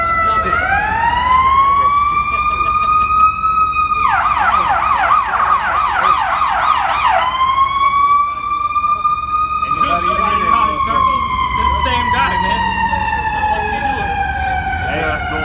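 An ambulance siren wails, rising and falling, switching partway to a rapid yelping warble, then back to a long wail, loud and continuous over traffic rumble.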